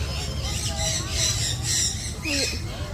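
Birds at a wildlife park in Quezon City give short squawking calls, several sharp cries repeating over steady outdoor background noise, with a voice speaking nearby.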